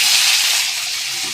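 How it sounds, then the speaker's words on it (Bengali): Black cumin seeds tempering in hot oil with bitter gourd and onion give a steady, bright sizzling hiss that fades slightly, with no talking. "কালো জিরে ফোড়ন দিলাম উচ্ছে পেঁয়াজের সাথে।"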